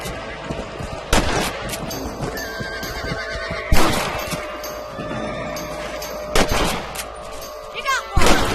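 Rifle shots ring out in the Red Dead Redemption video game as a player shoots rabbits, sounding as a few sharp separate bangs spaced seconds apart over a busy outdoor game soundscape with horse whinnies and hoofbeats.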